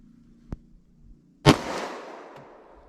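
Single sharp .45 ACP pistol shot with Buffalo Bore Barnes TAC-XP ammunition, loud and close, with a short echoing tail, after a faint click and small knocks.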